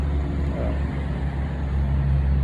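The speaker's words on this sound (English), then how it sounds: "all I hear is traffic. I hear trucks" Continuous low rumble of road traffic, cars and trucks passing on a road outside a house, heard from a front yard as a steady near-to-mid-distance drone without talk.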